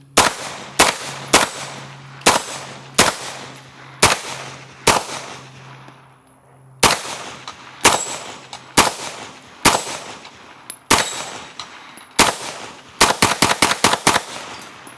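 A suppressed 9mm pistol fires in quick, sharp shots, grouped in short bursts and ending in a rapid string as the magazine is emptied, loud and close with no talking.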